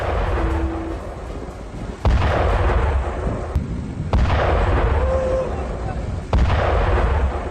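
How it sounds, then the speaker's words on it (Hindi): Several heavy booming blasts from bombardment, three or four spaced a couple of seconds apart, echoing over a rumbling background while a voice speaks. "एक के बाद एक धमाके यहां पर हुए हैं"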